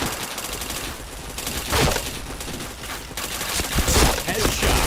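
Rapid bursts of gunfire from a shooter video game, loud and dense, with volleys swelling around the middle and near the end of the stretch.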